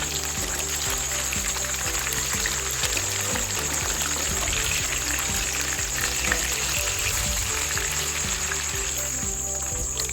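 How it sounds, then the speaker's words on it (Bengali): Pieces of rohu fish fry in oil in a pan, giving a loud, steady, close sizzle that runs unbroken for ten seconds, with no voices. "আমি এখানে মাছগুলোকে উল্টে পাল্টে ভালো করে ভেজে নিচ্ছি"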